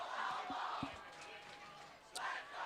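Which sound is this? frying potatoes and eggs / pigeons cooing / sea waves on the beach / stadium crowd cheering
stadium crowd cheering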